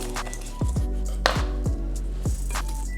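Knife slicing through homemade boudin eggrolls on a cutting board, several sharp crunchy chops in irregular rhythm, close and clear with no talking.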